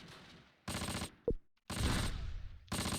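Bursts of machine gun fire sound in the World War II strategy game Close Combat, several loud sustained rattling volleys separated by short silences and a single sharp thump.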